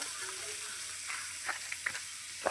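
Onions sizzle steadily in a hot pan while chicken curry is being cooked, with a few soft scraping stirs rising briefly above the constant hiss.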